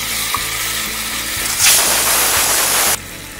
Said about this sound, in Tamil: இதை சேர்த்துட்டு நல்லா பேஸ்ட் ஆகிற வரைக்கும் வதக்கிக்கலாம்.